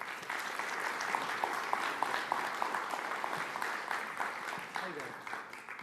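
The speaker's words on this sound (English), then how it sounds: "How about a round of applause?" A theatre audience at a 2016 season launch night in Warrnambool applauds steadily as Dave Arden returns to the stage, a dense and sustained wash of many hands, with some voices mixed into the crowd.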